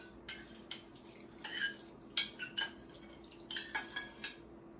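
A utensil scrapes and clinks against a pan as beefsteak is stirred and mixed. The knocks come in irregular clusters, close and fairly crisp, over a faint steady hum.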